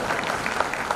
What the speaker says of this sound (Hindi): जरा धीरे ताली बजा